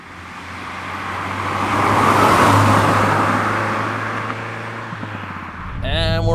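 A 1987 Renault 5 GT Turbo pulls away, its engine a steady, broad roar that rises and holds with road rumble, with a short burst of speech near the end.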